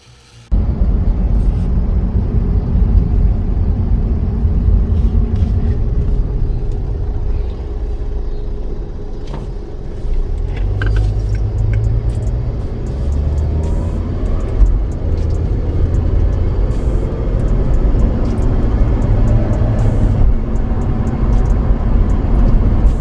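A 2005 Scion tC with a freshly replaced automatic transmission on a test drive, giving a steady low road rumble and engine drone throughout, with shifting swells in the middle and no talk.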